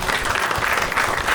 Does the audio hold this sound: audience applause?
yes